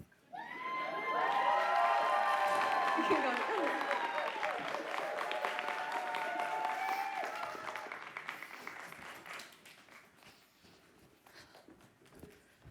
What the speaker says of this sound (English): Cheer again.